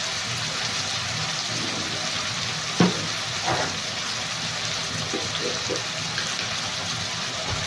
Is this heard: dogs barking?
no